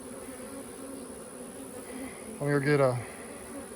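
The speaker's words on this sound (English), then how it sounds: "There were so many bees." Honey bees swarm densely in a hive box on a farm, a constant close buzzing drone, with a brief spoken phrase partway through.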